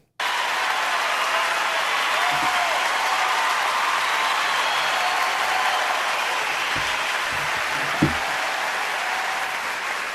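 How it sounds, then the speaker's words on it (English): Audience applause greeting a country singer at a concert, a large crowd clapping in a dense, unbroken roar that stays loud and even for the whole stretch, with a few faint thuds underneath. "that's a lot of applause"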